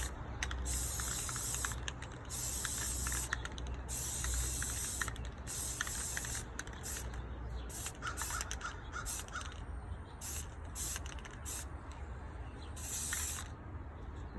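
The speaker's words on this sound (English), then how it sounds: "Now I'm going to take my 2x Ultra Matte spray paint and my tumbler on the grip." 2x Ultra Matte spray paint hisses onto a tumbler in repeated close, loud bursts, with a rattling can shake breaking up the spraying partway through.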